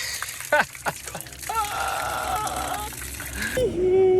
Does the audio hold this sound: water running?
yes